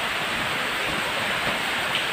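Water poured steadily while pako fern is being cooked, a continuous close splashing rush that fills the whole moment with no break.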